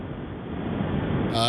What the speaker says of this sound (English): Sounds very windy wherever he is.